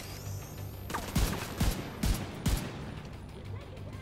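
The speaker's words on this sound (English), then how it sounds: "there's a grenade coming over" A grenade explodes in The Division 2 shooter game, several sharp low booms and blasts about half a second apart over steady background combat noise.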